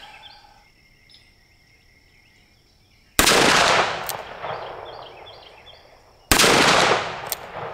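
Two loud gunshots from an EAA Windicator .357 Magnum revolver fired outdoors at a 100-yard steel plate, each a sharp crack with a trailing echo, spaced about three seconds apart over faint insect and bird sounds.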